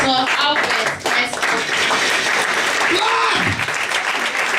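Steady audience applause welcoming a speaker at a book launch, loud and continuous, with cheering voices rising over the clapping.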